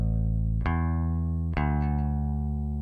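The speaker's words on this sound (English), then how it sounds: "That's a nice bass sound" Saturated bass in a song mix, sounding two sustained plucked low notes with a warm, thick harmonic tone, played alone and close.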